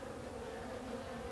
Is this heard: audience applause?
no